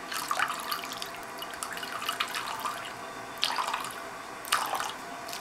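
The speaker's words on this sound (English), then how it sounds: "And so I'm going to sit this down and I'm going to drain the water out." Water splashing and trickling as it is drained from a container after makeup brushes were washed, with soft continuous pouring and a few louder sloshing bursts near the end.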